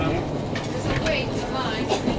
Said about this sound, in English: There's a train, eh?